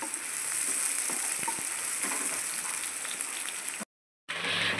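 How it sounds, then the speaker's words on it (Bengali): Onion sizzles steadily in hot oil in a pan while being stirred for an aloo gobi, a bright constant frying hiss with small scraping touches, briefly cutting out near the end. "এবার পেঁয়াজটা যতক্ষণ না ব্রাউন কালার হচ্ছে ততক্ষণ এটাকে আমরা নাড়াচাড়া করতে থাকবো।"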